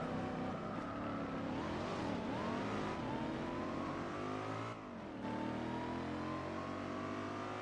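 Racing car engines from Gran Turismo 4 drone steadily with rising and falling pitch as cars accelerate and shift, a continuous loud engine note with a brief dip near the end, no talk over it.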